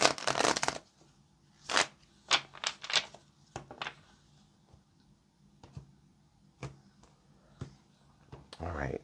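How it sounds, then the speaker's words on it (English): Tarot cards shuffled by hand in a quiet room, a burst of riffling at the start then several short bursts of flicking and slapping spaced through the clip, close and fairly soft, with another burst at the end. "let's get one more good shuffle"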